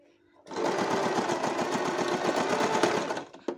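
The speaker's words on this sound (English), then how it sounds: "we are gonna get close to the edge and then we are going to sew straight down" A sewing machine stitches a straight seam down the edge of a fabric corner, running in one steady, close burst of rapid even needle strokes for about three seconds and then stopping.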